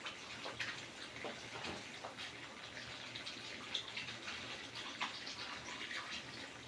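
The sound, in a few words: water splashing while washing an abaya by hand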